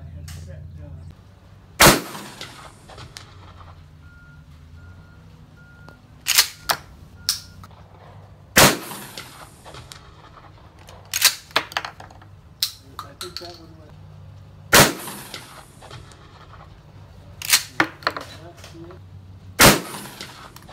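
12-gauge shotgun firing Foster slugs at a 220-yard target on an outdoor range: loud, sharp single blasts spaced several seconds apart, with fainter clicks and clatter between shots.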